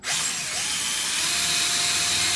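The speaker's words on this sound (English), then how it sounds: "We've got a 6mm drill" A loud electric drill with a 6mm bit whirs continuously at high speed, boring holes steadily with a dense, grinding mechanical whine.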